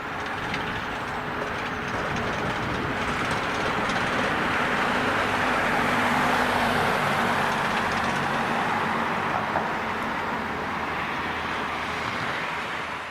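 A one-carriage roller coaster runs a pre-season test at Blackpool Pleasure Beach, a continuous loud rattling roar of wheels on track with clanking mechanisms that swells to a peak midway and stays broad and steady, with no talk.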